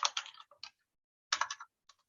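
Bursts of computer keyboard typing, close and fairly loud, in two quick clusters of keystrokes separated by a pause, with a few isolated taps trailing off and no talking.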